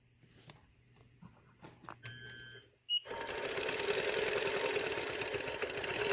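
A sewing machine does ruler-guided quilting on a quilt, starting with a few quiet clicks and taps, then breaking into a loud, steady whirring hum of stitching.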